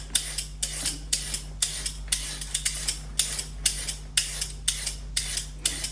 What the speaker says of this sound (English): So I've just washed up the cucumber, so I'm just going to cut up a little bit of it.